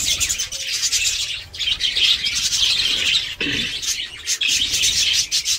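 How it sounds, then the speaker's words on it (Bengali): A flock of birds feeding by the sea chirps and squawks loudly and continuously, a dense chorus of overlapping calls up close with brief dips. "আর পাখিগুলো খাচ্ছে"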